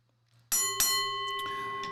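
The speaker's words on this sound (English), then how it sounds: "can you hit the bell, Professor Nim, so we can move on to the next round?" A boxing bell is struck to start the next round. It gives one loud clear ding, then a second strike, and the tone rings on and fades slowly with no talking.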